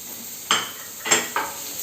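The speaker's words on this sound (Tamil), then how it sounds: "தீயை கம்மி பண்ணிவிட்டு இதெல்லாம் கொஞ்சம் நல்லா ரோஸ்ட் பண்ணலாம், கொஞ்சம் வதக்கி விடலாம்" Cumin and curry leaves roasting in a pan over low heat, a soft sizzle under three brief scraping stirs of a spoon, close and quiet with no voices.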